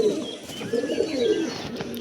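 Malbai and Punjabi pigeons coo softly nearby in a run of low, throaty rolling calls.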